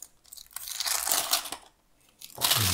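Paper wrapping being torn and crumpled off a Disney Lorcana starter deck, two close bursts of crinkling and tearing separated by a brief pause.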